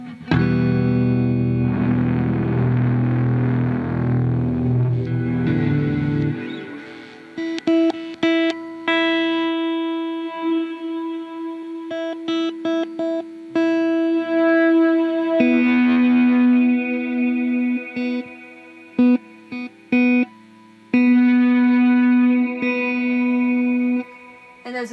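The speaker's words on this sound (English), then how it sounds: "There's a trails when you release it, so it's not just going to cut the reverb completely after you release." Electric guitar chords through a Rainger FX Reverb-X pedal, drenched in reverb, with lingering trails that keep ringing and fading after each strum rather than cutting off.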